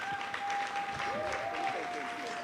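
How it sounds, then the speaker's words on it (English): Audience applause at a stage play event, a steady crowd clapping throughout with a speaker's voice faintly audible over it. "Can I round of applause, please, Ambassador Innocent?"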